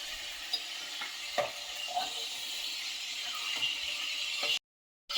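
Prawns frying lightly in hot oil give a steady, close sizzle, with a few soft stirring clicks from the pan, before the sound cuts off abruptly near the end.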